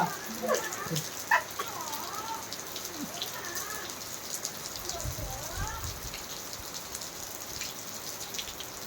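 Steady rain pours down with a dense, even patter close by, while voices talk and call out over it at intervals, including a child's.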